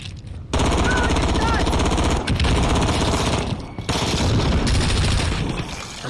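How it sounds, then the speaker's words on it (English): Rapid automatic gunfire from a high-recoil gun in Call of Duty: Modern Warfare, loud and close, in long sustained bursts broken by two brief pauses. "I'm shooting at a rock, I'm relatively certain."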